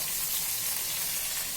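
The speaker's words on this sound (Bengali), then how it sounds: "মাছ ভাজা কমপ্লিট হলো" Fish sizzles in hot oil in a small home kitchen pan, a steady, even hiss of frying that runs continuously at moderate volume with no voices.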